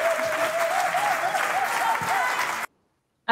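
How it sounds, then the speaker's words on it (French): Audience at a live variety show applauding steadily, a dense, loud wash of clapping that runs for about two and a half seconds before cutting off abruptly into silence. "C'est bon, on applaudit nos Merci, les gars."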